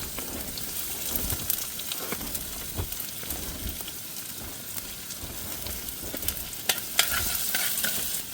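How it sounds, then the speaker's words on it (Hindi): Onions fry in hot oil at a snowy winter campsite, giving a dense crackling sizzle with scattered pops and stirring scrapes, close by and without talk. "तेल अपना गर्म हो गया है, इसमें डाल देते हैं प्याज।"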